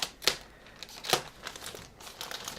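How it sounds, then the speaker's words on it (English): Packaging for a Feiyutech A1000 camera gimbal being opened, with close crinkling plastic and two sharp rips near the start and again about a second in, then quieter rustling. "So let's get this open and unbox it"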